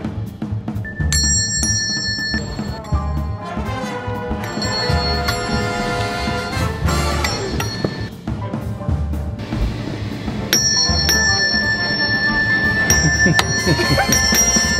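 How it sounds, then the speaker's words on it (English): A ship's bell rung aboard a sailboat gives bright clanging tones, one strike early and another later, each ringing on over a busy background of music and ambient noise. "the ship's bell's back where it belongs"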